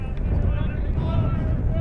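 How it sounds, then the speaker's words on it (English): Steady wind buffets the microphone at an outdoor high school baseball game between Maple Mountain and Dixie on an afternoon in March, a constant low rumble and roar running unbroken throughout the clip. "it's pretty windy here at the ballpark this afternoon"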